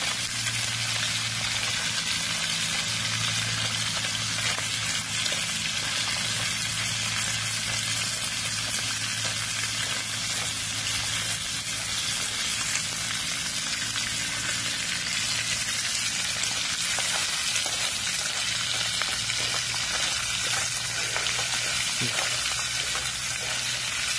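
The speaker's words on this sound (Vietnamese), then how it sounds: "Mình rang me thì mình phải chiên sơ qua để cho con ba khía nó giòn nha các bạn." Sesarmid crabs crackle and sizzle in hot oil as they fry for a tamarind dish, a constant loud bubbling hiss with scattered pops, heard close up.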